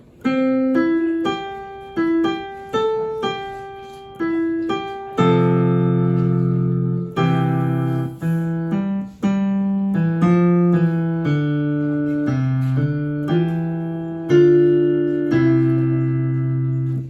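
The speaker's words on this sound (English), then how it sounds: "And then you would play Michael Row the Boat Ashore." Piano playing the folk tune Michael Row the Boat Ashore from an adult beginner method book, a clear melody over steady low chords, alone with no talk, moving at an even, moderate pace.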